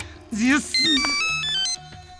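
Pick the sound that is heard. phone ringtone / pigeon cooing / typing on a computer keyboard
phone ringtone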